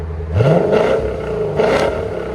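Lexus RC F with a 5.0L V8 and aftermarket exhaust revving hard, a loud close roar rising in pitch, then holding and swelling again in a second surge.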